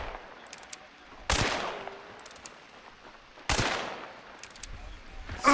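Gunfire from the video game Hunt: Showdown, two loud sharp shots a couple of seconds apart, each with a ringing tail, over quieter game ambience with faint distant pops.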